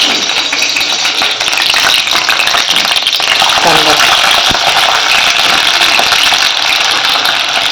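Loud, dense sizzling and spitting of curry leaves dropped into hot oil in a kadhai, continuous and close for the whole stretch.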